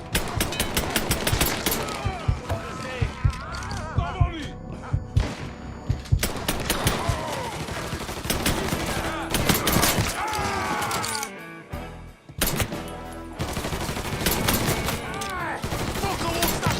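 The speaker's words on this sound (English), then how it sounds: "Fucker won't stop shooting!" Repeated gunfire in Mafia III, sharp bursts of shots and rapid volleys crackling throughout amid mechanical clicks, with a short lull before the shooting resumes, loud and close.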